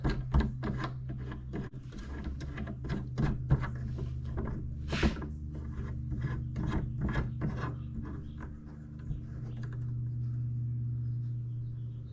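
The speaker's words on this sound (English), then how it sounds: "all you gotta do is drop it on the slots and tighten those head knobs" Knobs are tightened by hand while a Bixpy trolling motor is mounted onto the slots of a Hobie Lynx kayak, giving close, repeated rubbing and scraping strokes with short knocks, ending in a quieter steady hum.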